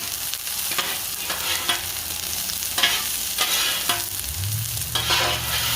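Smash burgers and onions sizzle on a very hot griddle, a dense, steady crackle with scraping strokes passing through it and no talking.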